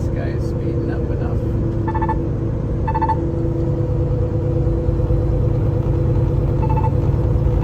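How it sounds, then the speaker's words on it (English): Short bursts of a musical chime from a truck's collision-warning radar sound a few times, flagging that the vehicle ahead is too close, over the steady low rumble of the truck cab on the highway while someone talks. "In case you're wondering what that little musical accompaniment is. That's the radar tattling"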